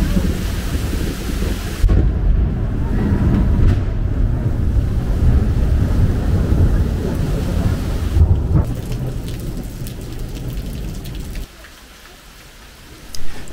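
Thunderstorm over a river seen from a hotel balcony, loud rolling rumbles of thunder over steady heavy rain that drops away near the end before a short final burst.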